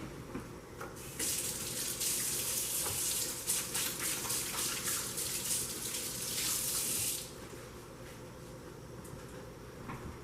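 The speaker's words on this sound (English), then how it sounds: "I'm really gonna wash my hands, so I will be right back" A kitchen tap running while hands are washed, a steady loud rush of water for several seconds over low background noise before the flow is cut off, leaving quieter room sound.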